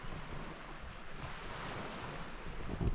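Sea waves along a Greek shoreline at a fishing spot, a steady broadband wash of surf mixed with wind buffeting the microphone, moderately quiet and continuous with no talking.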